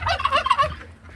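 Turkeys gobble in a short burst of rapid, warbling calls, fairly close, fading out after about a second.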